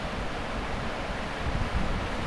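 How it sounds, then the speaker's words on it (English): Water rushes through a canyon near Ouray, Colorado amid heavy mist, a dense, continuous roar with wind-like hiss, steady and fairly loud without any talking. "The water is going through and there's a lot of mist."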